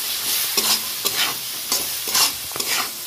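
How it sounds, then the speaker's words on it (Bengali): Turmeric is stirred into chana dal frying in a pan, with a spoon scraping and knocking in repeated strokes over a steady soft sizzle, close up and without talk. "এবার আমি হলুদটা দিয়ে দেবো, দিয়ে একটু নেড়ে নেব"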